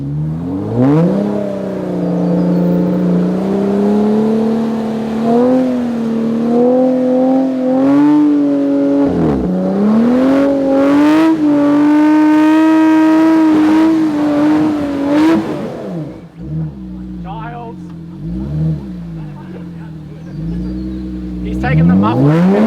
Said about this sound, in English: In his twin-locked Jeep Rubicon 37's Maxxis Treps, this thing is an absolute weapon off-road.